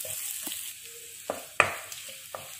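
Onions sautéing in a pan for Travancore-style rava uppumavu, a faint steady sizzle broken by a few short stirring scrapes and clinks, one louder knock near the middle, close and without talk.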